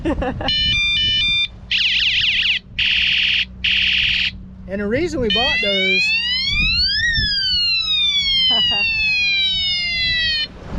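A cheap toy police siren on an Aventon Aventure e-bike cycles through beeping, warbling and wailing alarm tones, loud and close, while a person talks over part of it.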